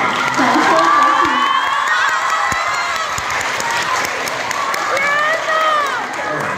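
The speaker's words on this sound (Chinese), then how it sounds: "庭张显汉，掌声有请。" Theatre crowd applauding and cheering loudly to welcome two crosstalk performers onstage, with dense clapping, shrieks and whoops from many voices, sustained and close.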